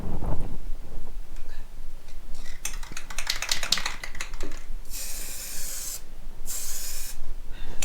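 Clattering and scraping, then two long bursts of spray-can hiss close by while painting a Detroit Diesel 6-71 engine, separated by a brief pause.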